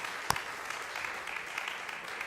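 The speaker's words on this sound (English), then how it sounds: "Please join me in an enthusiastic second round of applause for Shuai and Anto" Audience applause at an annual Partnerfest 2022 event, a steady, dense patter of many hands clapping, opening with one sharp close clap and continuing evenly without talk.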